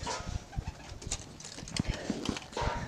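Pigeons in a cage coo in low, soft bursts, close by, with light rustling and a few faint background noises mixed in.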